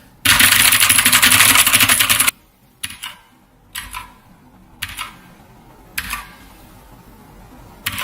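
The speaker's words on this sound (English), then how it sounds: "blue switches are well known for their clicky and clackiness of a switch" Bursts of clicky typing on a mechanical keyboard with Otemu Blue switches: a dense, loud run of rapid clacking for about two seconds, then several short separate clusters of keystrokes with quiet gaps between them.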